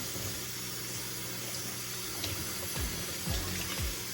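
Steady running water from a tap during a hair rinse, a continuous broadband wash with a few low gurgles and splashes toward the end, fairly close and alone.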